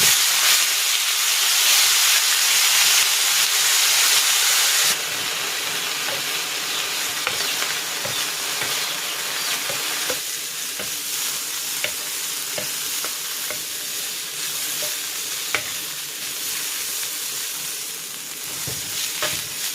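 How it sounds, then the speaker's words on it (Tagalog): Chicken pieces searing in hot cooking oil in a pan, a loud continuous sizzle and hiss with scattered crackles and pops, strongest at the start and settling to a steadier fry, with no talking. "Maglalagay ako ng cooking oil. Ayan, i-sear ko muna itong chicken."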